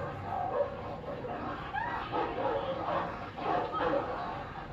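A dog barks and yips in short bursts at a moderate distance. Voices talk over it and the background is steady and noisy.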